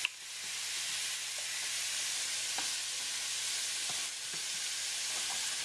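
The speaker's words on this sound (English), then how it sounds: "you're going to take your spoon and mix it around" A faint, steady hiss fills a kitchen as a spoon works pepper and garlic powder into lasagna filling, with a few soft scraping taps scattered across the mixing.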